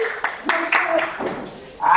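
Classroom of pupils clapping hands together in a few separate bursts of claps, fairly close, with children's voices and talk between them.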